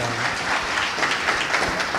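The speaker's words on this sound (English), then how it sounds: "Please give him a huge round of applause" An audience at a Summer Creek business community meeting applauds steadily, a dense, even wash of clapping heard alone at moderate volume.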